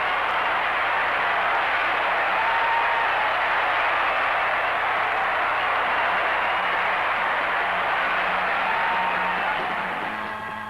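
A sellout crowd of over 19,000 at a 1972-73 NHL hockey game roars after a late goal tipped in on a power play, a loud, steady wall of cheering that holds for about ten seconds and eases slightly at the end.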